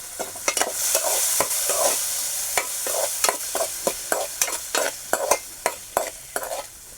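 Tomato and vegetables sautéed in a pan for ridge gourd bhaji, with a loud sizzle and quick, rhythmic scraping stirs close by, with no talking.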